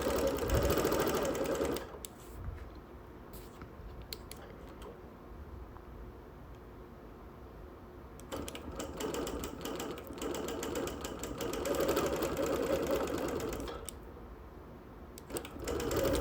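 A sewing machine free-motion quilts on wool, whirring in long runs that pause briefly and start again, close and steady, with no talk.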